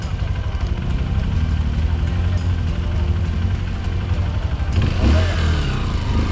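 A motorcycle engine revving hard while climbing a steep dirt slope on a mountain forest road, loud and sustained throughout, with a sharper surge of throttle near the end.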